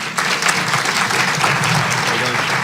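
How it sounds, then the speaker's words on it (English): A crowd at a White House summit claps steadily throughout, a dense, even wash of applause filling the room. "Let's give them a round of applause."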